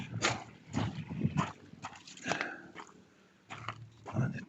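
A dog is close by outdoors after a storm, making a run of short, rough, irregular bursts like snuffling or chewing, with quiet gaps between them.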